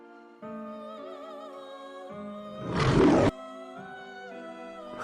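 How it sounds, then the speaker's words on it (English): A lion's roar sound effect plays as a series of deep, growling roars, with one loud, harsh burst in the middle followed by rumbling tails. "Lion's Roar SFX."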